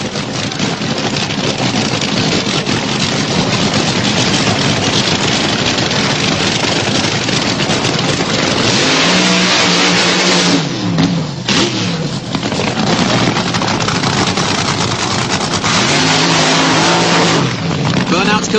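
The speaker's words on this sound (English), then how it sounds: "Both crews go through the familiar but necessary burnout routine." Drag racing cars at Santa Pod roar through burnouts before a run: a loud, sustained engine howl with tire screech, engines swelling and revving in waves and continuing throughout.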